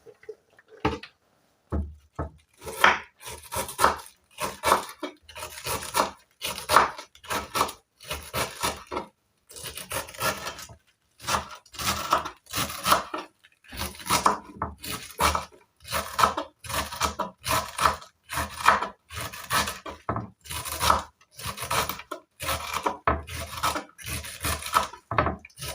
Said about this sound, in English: cutting your cabbage in a chopping board is simple